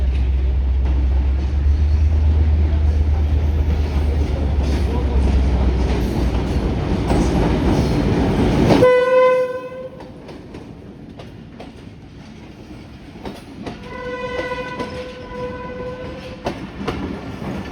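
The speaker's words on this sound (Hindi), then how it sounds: "दूसरी तरफ शटल ट्रेन HB 28050 की क़यादत में आ रही है।" A short two-coach shuttle train on a Pakistan Railways line, led by locomotive HB 28050, arrives with a loud rumbling roar that cuts off. A steady horn-like tone follows, then rhythmic wheel clicks and a second horn blast further off.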